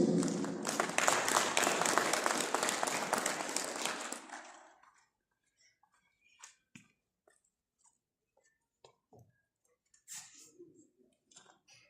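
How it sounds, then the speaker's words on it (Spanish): Strong crowd applause greeting a speaker at a rural Aymara community gathering, loud sustained clapping for about four seconds before cutting off into near silence with faint scattered sounds. "Recibamos con fuertes aplausos al hermano Cicilio"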